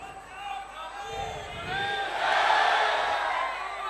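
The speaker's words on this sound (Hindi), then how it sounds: "मेरे लिए ताली नहीं बजाया करो, बाबा की जयकार लगाया करो" A religious gathering's crowd raises a loud chanted praise cheer for Baba, voices swelling together into a sustained roaring shout that peaks midway and then tapers slightly.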